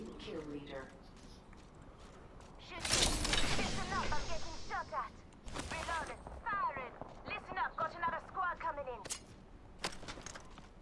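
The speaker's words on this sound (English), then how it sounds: "Listen up, I'm getting shot at." Bursts of gunfire in the video game Apex Legends, a dense loud volley in the middle followed by scattered rapid shots and impacts, with a player talking over the action.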